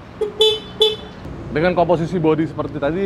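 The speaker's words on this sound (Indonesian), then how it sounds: "di dalamnya ada klakson. Bunyinya begini nih." The horn of a Royal Alloy GP 150 retro scooter sounds two short, bright toots close by, followed by someone speaking.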